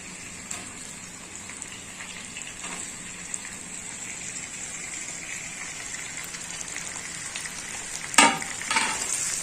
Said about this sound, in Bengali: টমেটোটা হালকা ভেজে নিয়েছি। এখন আমি দিয়ে দেবো চিকেন।